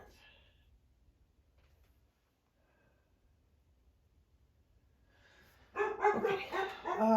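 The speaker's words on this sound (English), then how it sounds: "that is my dog Cooper" A pet dog barks and yips loudly at close range near the end, after several seconds of near silence in a home where acrylic painting is under way.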